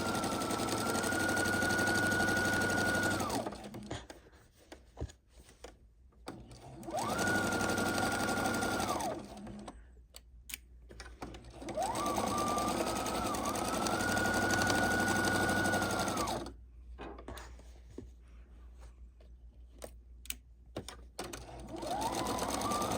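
Sewing machine stitching a fat quarter quilt, running in three long steady whirring bursts with quiet pauses between, close and clear, with small handling clicks in the gaps.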